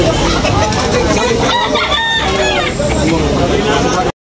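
Roosters crow loudly and chickens cluck at a busy poultry market in Tabunok, Talisay, several overlapping crows standing out over constant clucking and crowd chatter, with people talking nearby.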